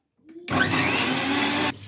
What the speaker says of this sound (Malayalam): ഇനി നമുക്ക് മിക്സി ഓണാക്കാം